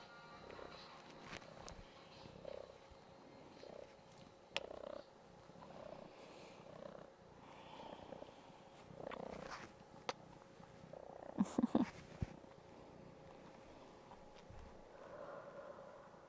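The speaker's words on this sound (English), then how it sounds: "Here comes my cat." A cat named Joey purring close by, a soft steady rumbling purr with a few faint clicks and rustles, quiet and unaccompanied by talk.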